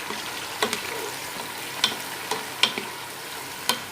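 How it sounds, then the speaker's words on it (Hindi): Onions frying in a pan for a bottle gourd and meat curry, a soft, steady sizzle with a few sharp spatula clicks scattered through, close by and fairly quiet, no voices. "यहाँ पे प्याज फ्राई हो रहे हैं"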